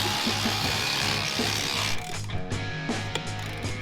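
A ratchet tightening a lock ring on a car during body work, heard as rapid repeated clicking close up over steady mechanical noise from the workshop.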